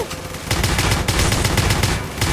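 Rapid video game gunfire bursts fill the scene, a dense fusillade of repeated shots with loud sustained automatic-weapon rattle and no pause.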